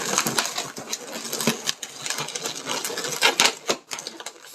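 A latex balloon is wrapped into a pinch twist, giving loud, close squeaks and crackling rubber rubs in quick irregular bursts.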